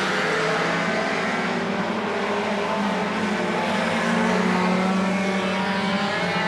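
Race cars roar together around a short oval track in a super short track race, a loud, steady wall of engine noise sustained throughout with no pauses.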